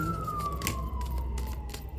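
A wailing siren sweeps slowly downward in pitch, steady and moderately distant, over a low background hum.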